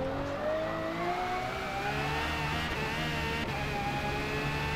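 A Bugatti Veyron in Forza Motorsport, its rear tyres worn and losing grip, drones with a continuous engine note that climbs slowly in pitch, loud and steady with no voices.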